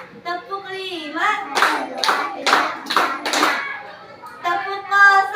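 Five sharp bursts of children clapping in time with a counting routine, evenly spaced, with a voice speaking before and after the claps.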